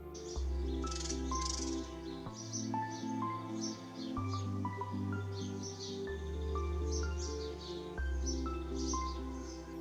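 A common chaffinch sings in a forest at dawn, with repeated bright chirping phrases heard faintly over a loud, steady musical backing.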